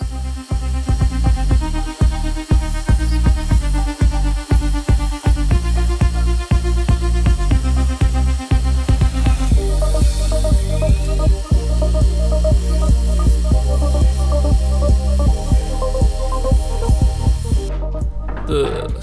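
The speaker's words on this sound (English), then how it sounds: "Now I run the edges of the blades through the grinder." Grinder rounding the edges of carving knife blades, a loud steady motor hum with rhythmic scraping pulses as steel meets the wheel, close and continuous.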